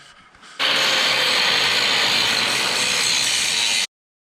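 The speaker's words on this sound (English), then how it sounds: "I'm going to tidy it up with the grinder" An angle grinder tidies rough welds on a repaired Honda TRX300 4WD quad chassis, starting abruptly and running as a loud, steady, high-pitched whine with gritty abrasion for about three seconds before cutting off.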